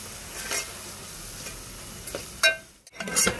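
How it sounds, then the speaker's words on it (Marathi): Onions frying in oil in a pan, a steady close sizzle with occasional stirring scrapes and clinks of a spoon. "ते कांद्याला चांगलं लाल होईपर्यंत तळून घेते।"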